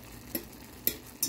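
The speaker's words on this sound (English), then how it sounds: "I'm sorry if my stirring is loud" Spoon stirring in a pot, three short scraping clinks spaced unevenly over a quiet background, close but fairly soft, with no talk.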